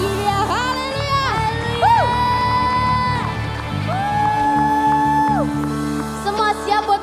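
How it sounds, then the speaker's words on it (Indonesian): A church congregation at a youth worship service cheers and shouts over loud, sustained music with long held notes, and voices whoop and yell throughout. "Beri sorak-sorai bagi dia."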